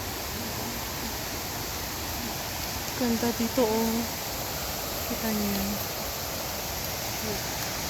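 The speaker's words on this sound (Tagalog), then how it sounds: "Batis ba itong tawag dito?" A mountain stream flows with a steady, broad rushing wash close by, and people talk briefly over it.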